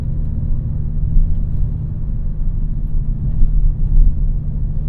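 2022 Hyundai Kona N accelerating, heard from inside the cabin as a loud, low engine rumble that swells and surges in waves without speech.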